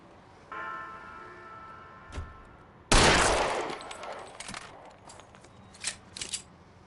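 Gunfire in the video game L.A. Noire: a single sharp shot, then a loud blast that rings off, followed by a few smaller pops and clicks against quiet background ambience.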